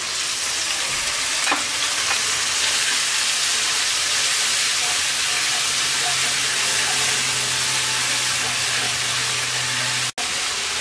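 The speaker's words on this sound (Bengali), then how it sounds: "অল্প একটু পানি দিয়ে মশলাটা কষিয়ে নিচ্ছি।" Turmeric, chilli and coriander powders cooking down with a splash of water in a pan for moong dal, a loud, steady hissing sizzle throughout with a faint low hum, ending in a brief cut.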